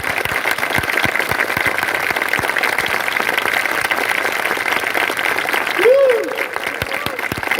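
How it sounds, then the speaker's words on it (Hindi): A church congregation claps for Jesus at a worship service, with steady, dense clapping throughout and a brief tonal swoop near the end. "come on, give your best clap offering to our Lord"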